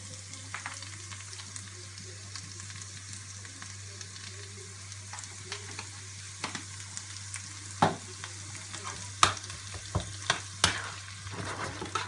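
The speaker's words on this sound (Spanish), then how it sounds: "Importante remover siempre, que no se nos pegue." Spinach macaroni and turkey being stirred in a frying pan, a continuous low sizzle with scattered scraping clicks from the utensil that grow more frequent toward the end, no talking.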